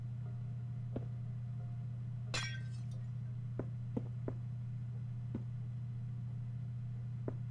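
Glass panes are placed into windows in Minecraft, with one short bright glassy clink or shatter among several soft isolated clicks over a steady low hum.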